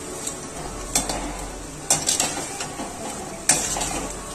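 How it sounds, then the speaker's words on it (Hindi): Cashews fry in a pan for chivda (poha namkeen) with a soft sizzle, while a spoon stirs and clinks against the metal in occasional sharp taps nearby. "अब हम इसमें काजू फ्राई कर लेते हैं।"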